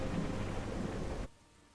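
Steady, dense rain falls on water in a video game, a loud, even hiss that continues without a break and then cuts off abruptly near the end, with no voices.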